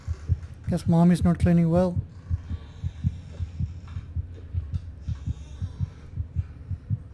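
A low, steady heartbeat pulses in the horror game Among the Sleep, a regular thumping that goes on throughout; a voice speaks briefly over the beats near the start.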